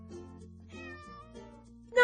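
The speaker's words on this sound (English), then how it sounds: ""Not I," purred the sleepy cat." A house cat meows as a sound effect in a children's story about a little red hen. One drawn-out, wavering meow sounds close and clear, and a louder second meow begins right at the end.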